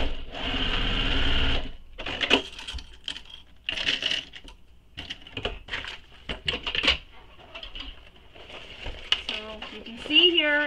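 A sewing machine stitches a seam on a mini crossbody bag, a strong run at the start followed by short choppy bursts, clicks and fabric handling, with a voice briefly at the end.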